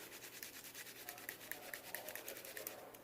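A scrub brush scours brass treated with lemon juice and baking soda in a fast, even rhythm of short strokes. The scrubbing is close but faint, and no one talks.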